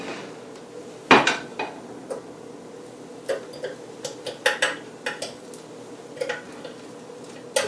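A metal fork scrapes and pries at a tater tot waffle stuck to a hot waffle iron, giving a loud opening clank and then a run of sharp close clicks and scrapes in irregular bursts, with no talking.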